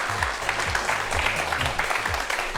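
An audience at a televised science lecture on the Dongui Bogam claps to welcome two guests, giving sustained, even applause over a low humming tone throughout.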